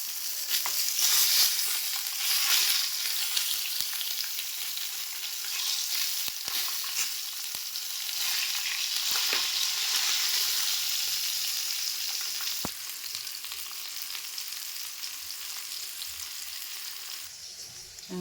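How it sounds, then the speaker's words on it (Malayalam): Eggplant slices fry over a low flame in a frying pan, a loud, continuous hissing sizzle that carries on steadily with a few faint clicks and no talking. "ഫ്രൈപ്പാനിലേക്ക് വഴുതനങ്ങ ഓരോന്നായി ഇട്ട് കൊടുക്കുക ഫ്ലെയിം ലോ ഫ്ലെയിമിലാണ് ഇത് വേവിച്ചെടുക്കേണ്ടത്"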